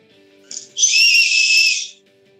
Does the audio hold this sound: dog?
no